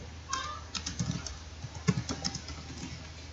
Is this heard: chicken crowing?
no